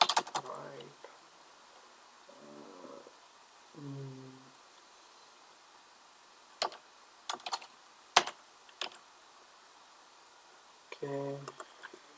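Java code is typed on a computer keyboard in short bursts of close key clicks and clacks, alternating with someone speaking quietly between them.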